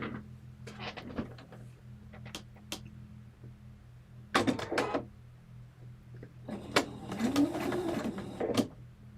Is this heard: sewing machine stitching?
yes